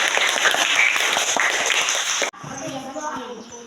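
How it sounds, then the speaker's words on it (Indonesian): Schoolchildren in a classroom clap for a student group: a loud, dense patter of hands runs for about two seconds, then cuts off abruptly, leaving quieter room sound and faint voices. "Tepuk tangan dulu buat kelompok 3."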